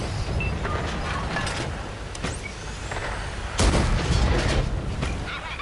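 Tank gun fire in World of Tanks, a heavy booming shot that cuts through a constant loud engine and mechanical rumble, with a few fainter distant reports.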